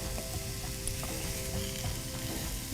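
Butter sizzles on a veg uttapam cooking in a pan, a steady soft crackle with faint scattered clicks and no voices.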